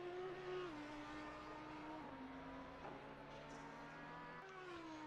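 A GT3 race car in Assetto Corsa Competizione at Oulton Park, its engine note held steady and then dropping in pitch under heavy braking into a bend, with a brief rise as it pulls away, continuous and close.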